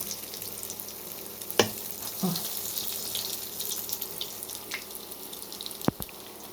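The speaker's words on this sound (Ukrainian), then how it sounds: "формуємо продовгувасті деруни і викладаємо на розігріту з олією сковорідку" Quiet oil sizzle from oblong grated-potato pancakes (deruny) frying in a preheated oiled skillet, a soft steady crackle with a few sharp clinks of utensils against the pan.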